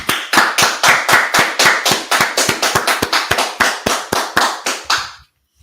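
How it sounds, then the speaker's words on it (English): Rhythmic clapping at a Washington DC street gathering, a loud, close, steady run of sharp claps, roughly three to four per second, that stops abruptly after about five seconds. "Let's clap it up."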